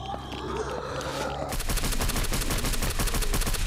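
A KRISS Vector submachine gun in the zombie game Infestation opens up with a sudden, loud, rapid automatic burst that rattles on steadily after a brief quieter lead-in with faint voices.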